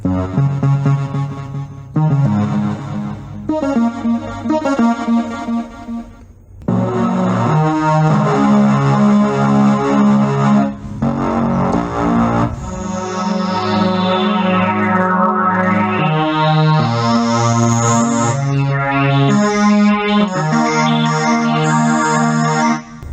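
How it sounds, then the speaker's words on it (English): A Casio CTK-6000 electronic keyboard plays chords through a delay effect, notes echoing and repeating, with a swooping pitch sweep rising and falling midway. "Must be about 10 different kinds of delays to choose from."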